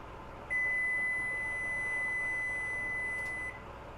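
A kitchen timer gives one continuous, piercing electronic beep for about three seconds against a quiet room while muffins bake.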